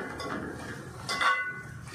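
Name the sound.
lid put on pot while cooking prawn curry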